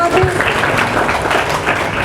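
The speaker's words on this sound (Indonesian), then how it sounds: "Boleh tepuk tangannya dong buat Ibu Dr. Ratnawati." A studio audience gives a short burst of applause for a doctor on a Ramadan health program, brisk dense clapping lasting about two seconds.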